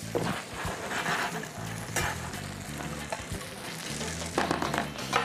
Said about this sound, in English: I'm just gonna press down on them just a little bit so I get that nice even sear